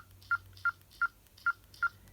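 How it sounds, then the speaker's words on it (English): Five short electronic beeps from key taps on a TCL LX phone keypad, evenly spaced, fairly quiet against a low hum. "Every key tap is that real annoying beeping sound."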